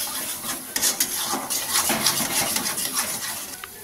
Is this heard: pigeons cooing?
no